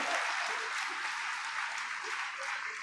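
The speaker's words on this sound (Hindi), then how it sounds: "महिला मोर्चा के सम्मान में जोरदार तालियां बजा करके स्वागत अभिनंदन करें।" Sustained applause from a crowd at a district panchayat representatives' honour ceremony in Bhiwani, Haryana, an even, continuous patter of many hands held at a moderate distance throughout.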